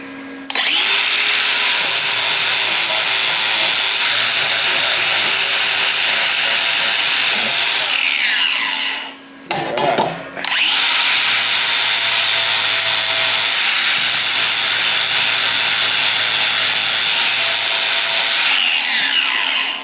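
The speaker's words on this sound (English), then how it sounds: "Now I'm basically just going to take the blending pad, get all the burrs off, kind of clean her up" A blending pad on a power tool whirs loudly against a metal motorcycle fairing mount to take off burrs. It grinds for about nine seconds, stops briefly, then starts again for another long, steady run.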